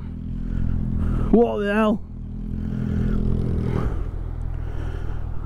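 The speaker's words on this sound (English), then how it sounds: "I can't believe how loud that exhaust is, honestly." A Suzuki GSX650F motorcycle with a full Delkevic decat exhaust idles nearby, then gives a short, sharp rev that rises and falls before settling back to a rumbling idle, while someone talks over it.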